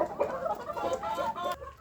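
Hens clucking close by at a home backyard nest spot, a short burst of several quick overlapping clucks and soft throaty calls, with no talking.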